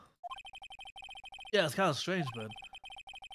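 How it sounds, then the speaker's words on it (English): A phone ringtone from the Ace Attorney video game trills in a rapid, steady pulsing pattern. It is briefly interrupted by a voice speaking, then resumes. "I heard a phone ring just now."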